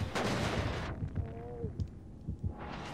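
A flashbang bursts inside the Dead by Daylight horror game, a loud broadband blast in the opening second that rings out and decays, followed by scattered soft thumps and a faint whistling tone.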